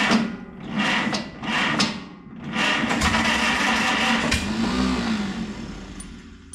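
A Farmall 300 tractor engine on 6-volt electrics with the choke partly set cranks in several rhythmic bursts, then catches and runs at a loud, rough, steady idle close by.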